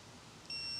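An Autel Lite+ drone powers on with a short, faint, high electronic beep near the end of a quiet moment, preceded by faint background hiss.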